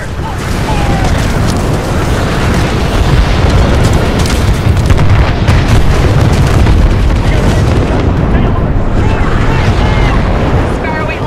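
Weapons fire and explosions in the video game Titanfall 2, a loud continuous barrage of heavy booms and rumbling blasts that barely lets up, with voices mixed into the chaos.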